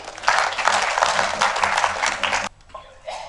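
An audience at a tribute event for a writer claps loudly for a couple of seconds, then the applause cuts off abruptly into near quiet.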